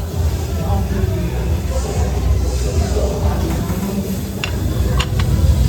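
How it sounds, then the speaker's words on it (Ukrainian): Shrimp sizzle and hiss steadily on a hot grill at an outdoor New Year's gathering in Dubai, with chatter and background noise all around. "Дивіться, як він там жарить креветки"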